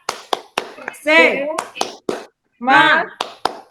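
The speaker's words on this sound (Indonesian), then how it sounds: "Tepuk tangan aja. Tepuk semangat ya." An audience in a classroom lesson performs a rhythmic cheer clap: quick groups of sharp, close hand claps in a set pattern, with voices chanting in unison between and over the bursts.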